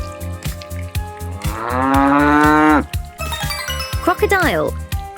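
A cartoon cow in a children's colors lesson lets out a long, drawn-out moo in the middle, set among steady rhythmic plopping sounds, with a second, shorter bellow near the end.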